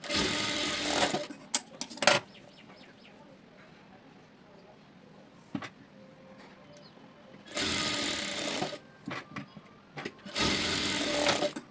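A sewing machine stitches a lined blouse in loud, close bursts of rapid whirring separated by quieter pauses with light handling noise and faint talk.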